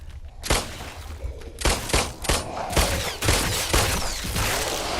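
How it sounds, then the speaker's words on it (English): Rapid bursts of gunfire in the Roblox game Brookhaven, a fusillade of loud, close shots coming in uneven clusters across several seconds with brief gaps, no talking. "I'm not giving this gun enough time to reset from the recoil."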